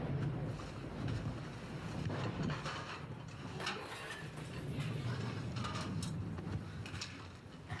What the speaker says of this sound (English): The wind's going.